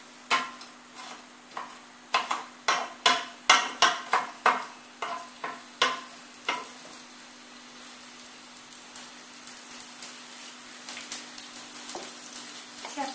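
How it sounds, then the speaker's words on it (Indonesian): Garlic sautéing in coconut oil in a pan, a faint soft sizzle under a series of sharp taps and clicks from stirring, the tapping coming in quick bursts and then thinning out to a quieter hiss. "Tumis sampai bawang putih kecoklatan dan berbau harum."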